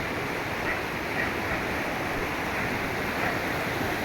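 A rain-fed stream runs high with plenty of water, making a steady, dense rushing wash that stays loud and unbroken throughout, with no voices over it.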